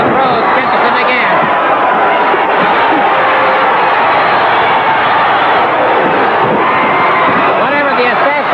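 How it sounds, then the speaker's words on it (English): A packed wrestling arena crowd roars loudly and without pause, a dense wall of cheering and shouting with no break, close and overwhelming throughout. "You can hear the tumultuous roar of this crowd as Rhodes catches him again."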